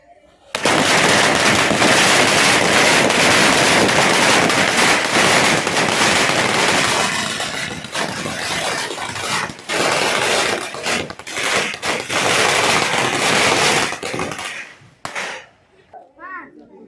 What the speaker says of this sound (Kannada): ಇವಾಗ ದೊಡ್ಡ ಸರ ಹಚ್ತೀನಿ ನೋಡಿ